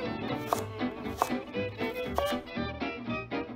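A knife cuts a broccoli stem into julienne strips on a cutting board for a beef and broccoli stir fry, giving a series of close, crisp chops at an irregular rhythm with no talk.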